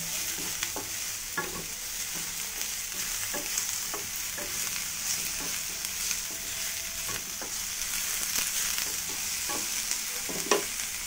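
Food sizzles steadily in hot oil, with scattered clicks and scrapes of stirring in the pan throughout.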